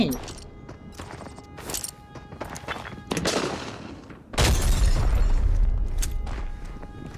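A heavy grenade explosion in the video game Arena Breakout booms out, preceded by scattered gunfire and impacts, with a loud sustained blast rumbling near the end.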